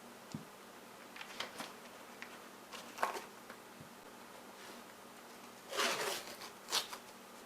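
Adhesive tape is pulled from a roll and pressed down while making canvas art: faint ripping and crackling strips in short bursts, with a longer, louder tearing pull near the end.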